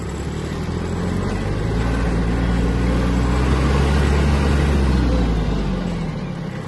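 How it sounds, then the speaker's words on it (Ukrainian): Hinomoto CX-19 Japanese mini tractor (a Kubota A-195 variant) driving at speed, its mid-pitched diesel engine holding a steady, continuous drone that rises slightly in pitch as it gathers pace, close and loud with no talking. "Трактор досить швидко набирає свою максимальну швидкість."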